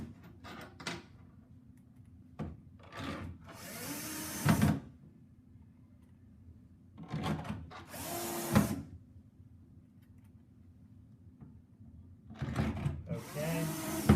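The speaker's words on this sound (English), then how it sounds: "until we get those final 4 screws through the iMOVE and shim for permanent installation" Power driver sinks installation screws through a Hafele iMOVE pull-down shelf mounted in a kitchen cabinet face frame, in three short whirring bursts separated by quieter handling clatter.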